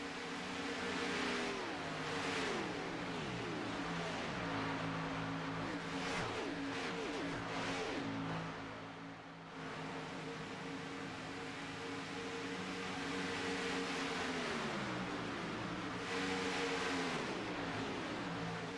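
Stock race cars at Talladega speedway in an NSRA night race, a pack of engines droning steadily with loud, sustained roars and pitch shifts as cars pass and shift, continuous throughout.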